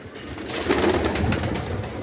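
Young pigeons cooing in a pigeon loft, a soft, continuous murmuring coo close by over a faint background hiss.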